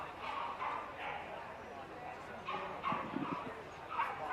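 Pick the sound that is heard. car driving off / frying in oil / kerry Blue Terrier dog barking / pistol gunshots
kerry Blue Terrier dog barking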